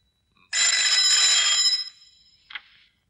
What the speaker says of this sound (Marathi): विक्रम, ये फोन.